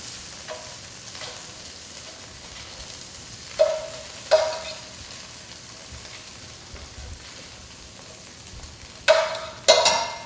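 Butter, two tablespoons of it, melts and fries in a pan as a low steady sizzle. A few sharper spatula scrapes stand out near the middle and again at the end, with no talking.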